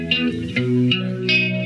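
Clean, undistorted guitar part with rich sustained harmonic chords changing every half second or so, loud and alone with a slight shimmer.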